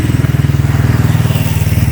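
A motorcycle engine thrums steadily and loudly close by on a street in the traditional village of Pinge in Tabanan, Bali, with a low, pulsing rhythm throughout and no talk.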